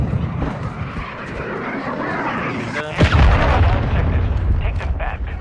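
An in-game cruise missile strike in a multiplayer shooter lands as a sudden heavy boom around midway, over a constant roar of aircraft and battle noise.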